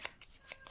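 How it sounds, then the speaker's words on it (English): Playing cards for the board game Tiny Epic Dinosaurs being shuffled at a table, a few quick riffling bursts close and fairly quiet, with no talking. "I'm shuffling again to see if we'll get a better variety."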